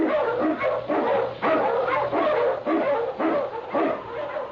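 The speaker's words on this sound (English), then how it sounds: "The Wonder Dog King, swiftest and strongest of Eskimo lead dogs, blazes the trail through storm and snow" An Eskimo lead sled dog barks in an old-time radio drama, giving loud, close, repeated barks in a steady rhythm of about seven evenly spaced woofs with no voices over them.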